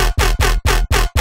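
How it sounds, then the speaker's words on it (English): A thumpy synth bass preset built in Serum 2 repeats five loud, punchy hits in an even rhythm, each note sustained briefly and then cut off sharply, alone with no voice. "Today I've got kind of like a thumpy bass."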